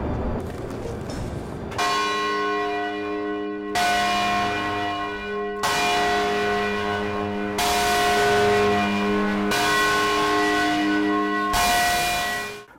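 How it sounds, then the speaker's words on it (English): The bell at Old South Church peals after a race finish, six loud, ringing strikes at a steady, unhurried pace, each one decaying into a long humming tone, heard alone. "At Old South Church, when you finish the race, we peal the bell."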